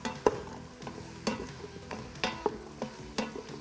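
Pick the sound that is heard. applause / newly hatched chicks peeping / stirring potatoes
stirring potatoes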